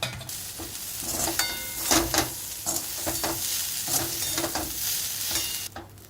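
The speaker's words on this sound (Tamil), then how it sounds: "இப்போ இந்த பீன்ஸை, வதக்கின பீன்ஸை இதில் ஆட் பண்ணிடலாம். கொஞ்சமாக தேங்காயும் போட்டு கிளறி இறக்கினா பருப்பூசிலி ரெடி" Sautéed beans and coconut being stirred into Tamil paruppu usili in a pan, with a steady sizzle of frying and repeated scraping strokes of a spoon against the pan close by.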